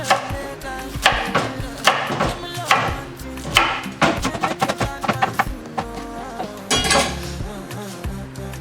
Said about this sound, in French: Alors moi je vais découper mes salades.